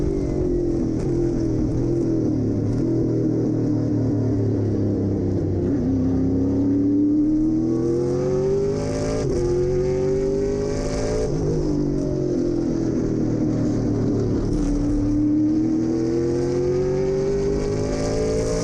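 Trans Am race cars, including an M1 Team SLR Camaro, racing at Laguna Seca, loud V8 engines revving and shifting in rising and falling sweeps as several cars run close together, with no talk.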